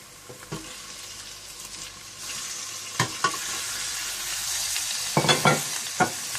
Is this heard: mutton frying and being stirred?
yes